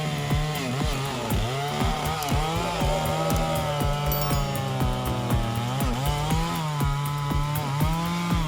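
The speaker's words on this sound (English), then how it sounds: "he's cutting a centuries-old oak tree with precision, preserving its wood." Chainsaw cutting through a centuries-old oak tree, the engine droning steadily at close range with its pitch dipping and rising as the chain bites and loads up, with no talk over it.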